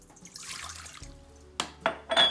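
Water runs and splashes into a bowl of pizza dough ingredients, a soft pour followed by a few louder bursts of splashing close by.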